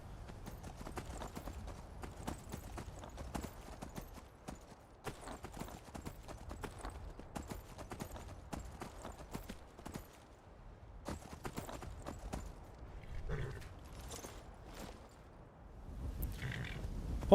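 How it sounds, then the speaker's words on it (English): Horse hooves clip-clop steadily during riding in the video game Skyrim. The rhythm is continuous, quiet and even, with no one talking over it. "Horse riding in Skyrim fucking sucks."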